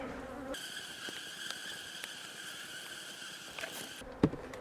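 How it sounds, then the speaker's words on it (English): Honey bees hover around freshly harvested honey and wax cappings, making a faint, steady, droning buzz that lasts throughout. A soft knock is heard near the end. "Want to get a few bees in there."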